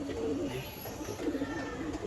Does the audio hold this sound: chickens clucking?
no